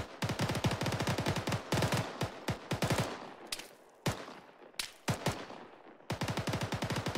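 M249 machine gun fire in ArmA 3: rapid sustained automatic bursts, loud and close, broken by brief pauses and single reports, then resuming in long rattling strings.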